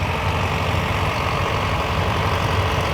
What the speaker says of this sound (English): Another John Deere tractor following it, a 3020.